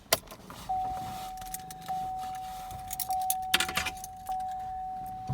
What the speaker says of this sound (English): Go ahead and turn on your car without starting.